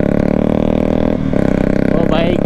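A Royal Enfield Bullet and a KTM motorcycle rumble together in a loud, steady, close engine drone. The pitch briefly dips midway and rises near the end.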